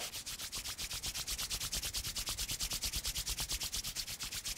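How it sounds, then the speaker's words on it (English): Two palms rubbing briskly back and forth to warm the hands, a close, fast, evenly rhythmic swishing that repeats steadily with no talking. "You can either press more or you can rub more."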